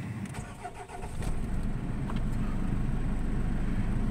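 Diesel engine of a 2008 Nissan X-Trail 2.0 dCi cranking briefly and catching, then settling into a steady, close rumbling idle.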